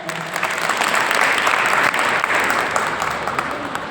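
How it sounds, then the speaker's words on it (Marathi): An audience at a workplace safety skit competition applauds the teams, a dense, loud burst of clapping that swells and holds steady for several seconds before easing slightly. "तरी पण पुन्हा एकदा या सर्व टीमसाठी टाळ्या"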